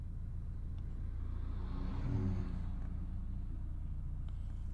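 2009 Peugeot 207 automatic with a sequence solenoid fault idles in a low steady rumble close by, swelling briefly midway as it is shifted into drive, then settling back to an even hum.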